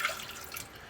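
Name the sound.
warm water poured into bread maker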